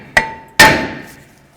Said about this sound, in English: If the rotor's stuck on, just take a hammer and just tap in these areas.